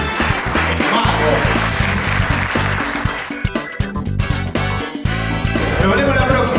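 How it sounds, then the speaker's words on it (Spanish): An audience at a product launch event applauds a chef, producing dense clapping with sharp individual claps standing out, steady throughout and heard under a voice speaking. "También un aplauso para Donato de Santi"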